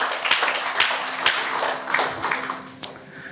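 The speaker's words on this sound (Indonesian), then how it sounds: "Beri tepuk tangan dong buat Tuhan kita yang luar biasa" Church congregation applauds after a pastor's sermon prompt, a dense wash of hand claps with a few sharper individual claps standing out, steady and moderately loud.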